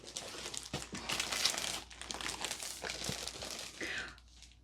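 Plastic wrapping around a diamond art canvas crinkles and crackles in close, irregular bursts as it is handled and pulled open, loud against a quiet room.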